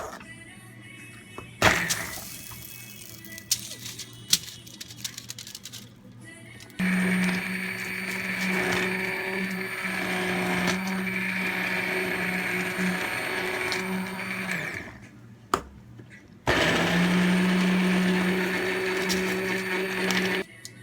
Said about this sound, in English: if you have a handheld, you can actually turn the flame off, and then right here you're just gonna blend this all out.